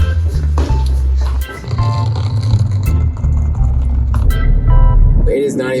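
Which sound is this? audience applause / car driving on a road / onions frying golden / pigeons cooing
car driving on a road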